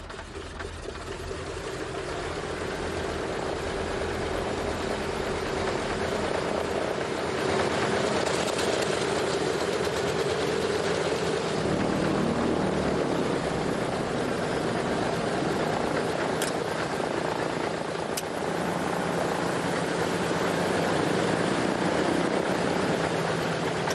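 C-47 Skytrain propeller planes take off with their engines roaring. A dense, steady drone swells in the first seconds and then holds loud and constant throughout.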